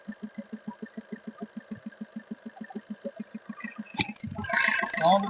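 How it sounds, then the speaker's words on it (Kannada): A 2018 Maruti Suzuki Ertiga's engine idles with a steady, even pulsing thrum heard up close, then a louder burst of mechanical noise and rustling takes over near the end. "ಮುಂದಿಂದ ಇಂಜನ್ ಸೌಂಡ್ ಕೇಳ್ಬೋದ್ರಿ."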